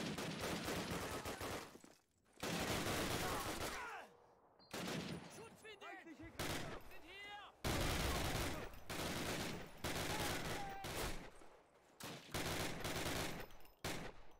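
Submachine guns fire from the hip in the World War II shooter Call of Duty: United Offensive, loud bursts of rapid automatic gunfire repeating in clusters with brief gaps between them, close and dominant.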